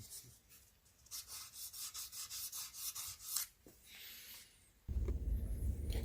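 Guitar frets on a handmade guitar are sanded with 2000 grit sandpaper in a rapid series of close, rhythmic scraping strokes, followed by a pause and then a louder rushing noise.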